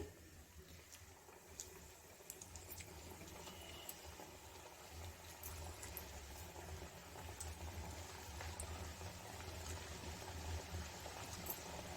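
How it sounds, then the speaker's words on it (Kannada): A second batch of sweets fries in hot oil on a low flame, giving a faint, steady bubbling sizzle with no talk. "ಸೆಕೆಂಡ್ ಬ್ಯಾಚನ್ನು ಹಾಗೇ ಫ್ರೈ ಮಾಡಿ ತಗೊಳ್ಳೋಣ"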